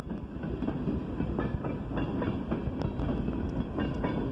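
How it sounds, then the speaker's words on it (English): A train rolls past during a December snowstorm, a steady loud rumble with rhythmic clickety-clack of wheels over rail joints throughout, fairly close and continuous, no voices. "There's the end of the train."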